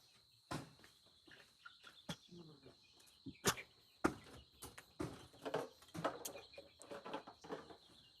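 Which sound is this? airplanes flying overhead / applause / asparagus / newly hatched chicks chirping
newly hatched chicks chirping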